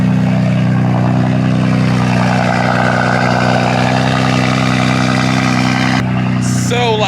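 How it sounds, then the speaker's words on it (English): A BMW M4 engine cold-starts with a loud, steady, deep roar that holds near and constant throughout, settling slightly toward the end with a brief higher mechanical chirp. "Ooh, that cold start."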